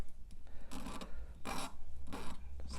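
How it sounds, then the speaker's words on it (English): A hand file rasps over the clipped end of a metal piece in a jeweler's workshop to remove burrs, giving several short scraping strokes in an uneven rhythm, close and moderately loud. "taking those burrs off sometimes is all that needs to be done"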